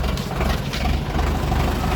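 A tractor engine runs steadily nearby on a farm, a low, even rumble with a chugging pulse that holds throughout without any speech.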